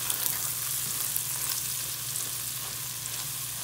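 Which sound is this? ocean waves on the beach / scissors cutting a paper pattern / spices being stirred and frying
spices being stirred and frying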